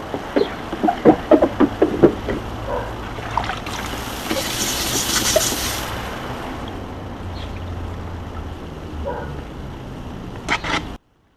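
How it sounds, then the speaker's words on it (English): A car being rinsed off with water while body damage from a backing-up accident is repaired, with a steady rushing spray that swells loudest midway and then tapers off, plus scattered knocks and clatter. "Let's wash it off."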